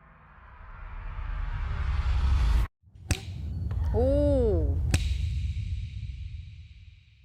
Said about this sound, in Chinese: 所以请你打一个响指暂停这段时间